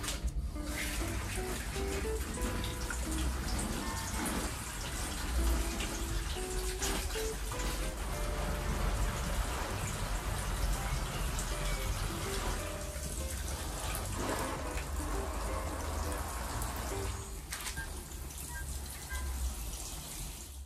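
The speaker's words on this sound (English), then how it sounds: "a fine rose means a head of the watering can with lots of little holes, and it gives fine watering droplets." Fine droplets from a finely rosed Hawes watering can patter steadily onto tomato plants in growbags, a continuous soft splashing and trickling that runs close and even for the whole stretch.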